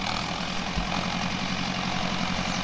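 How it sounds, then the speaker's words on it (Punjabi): A tractor engine idling in a farm field while ridges are prepared for planting cauliflower, a steady close low rumble with no voices. "ਅੱਜ ਆਪਾਂ ਪਾ ਰਹੇ ਹਾਂ ਟਰੈਕਟਰ ਨਾਲ ਵੱਟਾਂ ਥੇਲਾਂ"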